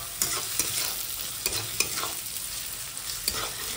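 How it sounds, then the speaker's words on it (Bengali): Chopped ginger sizzles in oil in a pan while a utensil stirs it in irregular scraping strokes, the frying hiss steady and close throughout. "এখন ভাজতে হবে, এখন এটা নাড়তে হবে।"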